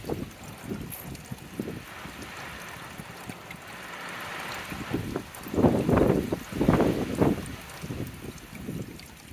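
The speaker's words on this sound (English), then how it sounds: "Forgive the wind, it's been like this all day." Gusty outdoor wind buffeting a microphone at a site where ore is processed, a steady rushing roar that swells into stronger low blasts toward the end.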